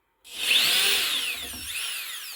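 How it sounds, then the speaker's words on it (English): A corded Ryobi drill whirs steadily as it backs screws out of a door hinge, one close, loud continuous run starting abruptly and holding its pitch with slight wavering. "I got the Ryobi with the cord. You just drill out the"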